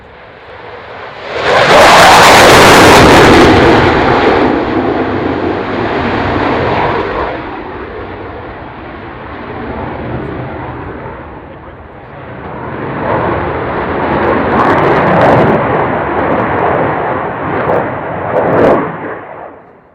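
At the Royal International Air Tattoo air show, an aircraft takes off with a loud roaring engine surge that swells, eases, then builds again into a sustained rumbling thrust with sharp crackling peaks, close and powerful.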